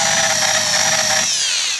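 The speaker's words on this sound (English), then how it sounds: "You do get different results depending on how you hold the drill" A power drill fitted with a wheel whines loudly at a steady high pitch while removing sticker residue from the body of a Suzuki Every kei van, then spins down as the tone drops near the end.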